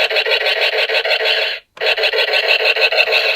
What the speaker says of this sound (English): you also get gun turret sound effect